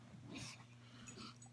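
A dog letting out soft, brief whimpers and breathy yips, very faint and close in a quiet indoor room.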